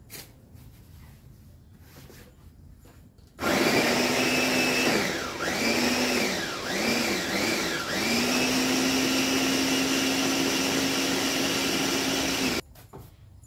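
Kitchen blender grinding spices and dried chilies into a paste, starting abruptly with a loud steady whine and roar that dips and surges a few times as the blades catch the load, then runs evenly until it cuts off.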